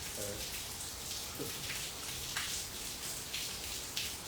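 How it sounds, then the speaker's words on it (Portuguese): Rain falling in Campina Grande, heard as a steady dense hiss of drops with occasional louder splats, continuous and moderately close, with faint voices murmuring underneath. "Esse barulho é barulho de chuva"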